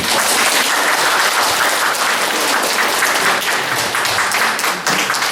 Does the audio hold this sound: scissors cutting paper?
no